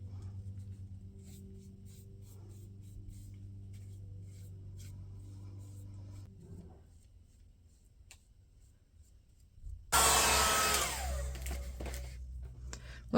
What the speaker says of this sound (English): Once again, I'm going to dry this with a cool hair dryer.